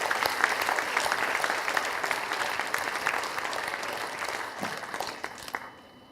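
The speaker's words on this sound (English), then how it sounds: "can we give them another round of applause to acknowledge how well they did" A launch-event audience applauds performers, a dense, steady wash of many hands clapping at moderate distance that carries on for several seconds before thinning and fading out at the end.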